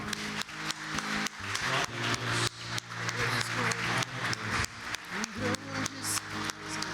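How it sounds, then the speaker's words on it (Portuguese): A church congregation at a family worship service claps to praise the Lord, in steady rhythmic bursts over a sustained musical backdrop, moderately quiet and continuous throughout. "Vamos dar uma salva de palmas para o Senhor?"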